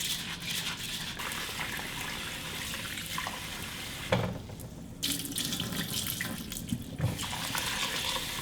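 Rice being rinsed by hand in a heavy, thick-bottomed stone pot, with steady running water and sloshing swirls that continue with brief pauses and splashes.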